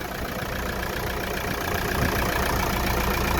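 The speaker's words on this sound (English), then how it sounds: "Engine sounds good, starts up first time, no leaks, perfect." The inboard engine of a Mainship Pilot 30 II trawler idles steadily, a close, even, low rumble with a smooth continuous chug and no speech.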